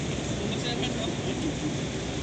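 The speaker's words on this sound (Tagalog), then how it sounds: "naabuta kami ng bagyo" Heavy rain and storm noise during a typhoon while people wait stranded at a port for a ship, a dense, steady broadband wash that fills the whole stretch with no clear breaks.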